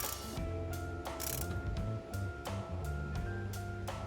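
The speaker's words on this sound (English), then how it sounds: "So now we got our socket wrench." A socket wrench ratchets while tightening head studs on a Honda G23 engine. Rapid, crisp clicking comes in about a dozen short, evenly spaced bursts, loud and close, with no voices.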